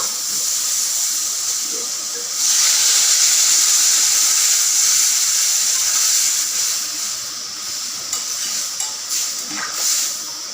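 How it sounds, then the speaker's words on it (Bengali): Water poured into a pan of frying puti fish curry with aubergine and potato sets off a loud, sustained sizzle and hiss that swells and then steadies, with a few faint clinks near the end. "আমি এখন জল দিয়ে দেব"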